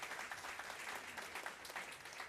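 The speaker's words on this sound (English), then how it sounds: "Please give a huge round of applause for our panel today." Applause for a panel at an urban mobility summit, a steady patter of clapping from the audience, fairly quiet and distant, continuing evenly throughout.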